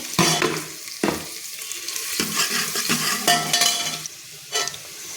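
Onions and chilies sizzle in hot oil in a pan, with repeated scraping strokes of a stirring spoon punctuating the steady frying hiss, close up and with no voices.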